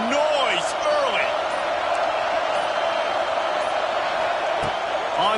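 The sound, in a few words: stadium crowd noise in College Football 26 video game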